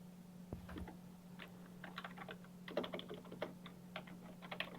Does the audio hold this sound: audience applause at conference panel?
no